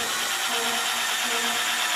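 A power drill spins a countersink bit into a workpiece that already has holes drilled, giving a steady high whine that holds level and continuous throughout.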